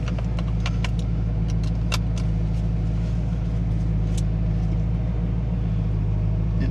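A 2003 Corvette Z06 engine warming up at idle, a steady deep low rumble held throughout with scattered light clicks and jingles over it, close and continuous.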